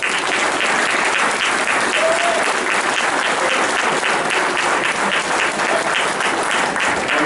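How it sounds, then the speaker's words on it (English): An audience at a Worcester District 17 candidates' debate forum applauds all four candidates, producing steady, dense clapping that holds at an even loudness throughout without pause. "Let's give them an applause."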